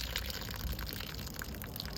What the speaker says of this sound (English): pencil-sized trickle of water